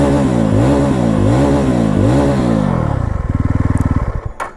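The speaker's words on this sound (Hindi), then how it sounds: "मैं आपको एग्जॉस्ट सुनाता हूँ अब।" Yezdi Roadster motorcycle (2025 model, one-click start) idling close up, its exhaust giving a loud, steady rhythmic thump with a few throttle blips, then settling into a slower, evenly pulsing idle.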